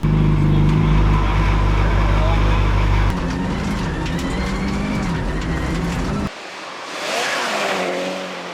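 A rally car on a test run roars past loudly, its engine revving and changing pitch through several distinct segments before dropping away to a quieter, distant drone at the end.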